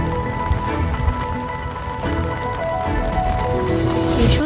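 Unseasonal rain falls steadily over farmland with harvested groundnut crops near Keshod, Junagadh, a dense continuous patter on surfaces, fairly loud and without pause, no voices.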